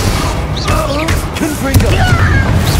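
Confringo and Bombarda spell explosions in the video game Hogwarts Legacy, loud booming blasts and crashes in quick succession amid combat, with character voices shouting over them.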